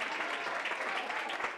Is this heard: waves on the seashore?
no